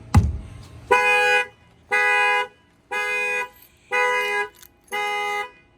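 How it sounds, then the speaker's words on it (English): After a brief bump from banging on the front wheel, a Chevy Camaro's anti-theft car alarm blares a loud, harsh horn-like tone in five evenly spaced blasts, each about half a second long. "Fires off the alarm."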